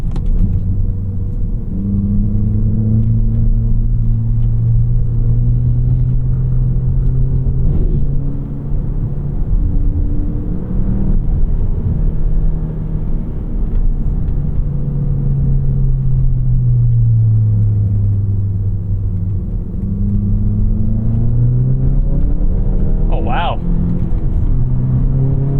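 A 2018 VW Golf GTI SE with a catback exhaust pulls hard, its engine droning loud and steady from inside the cabin, pitch climbing and dipping through gear changes.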